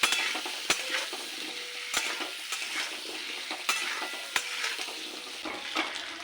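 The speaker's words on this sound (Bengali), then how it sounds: "কুমড়োগুলোকে ভেজে নেব।" Pumpkin pieces seasoned with salt and turmeric frying in a pan, a gentle sizzle punctuated by regular sharp scrapes and knocks of a spatula stirring, close and moderately quiet.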